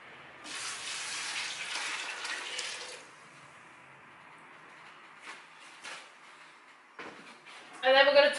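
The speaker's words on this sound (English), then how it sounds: "the first one we pour over is going to be a boiling water" Boiling water gushes as it is poured over blueberries for country wine for a few seconds, then quieter splashes and handling noises follow, with a voice briefly near the end.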